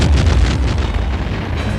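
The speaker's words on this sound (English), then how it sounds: "we have a lot of explosions, which is all very dangerous" A loud stunt explosion goes off on an action film set, a deep rumbling boom that rolls on and slowly decays over about two seconds, with no voices.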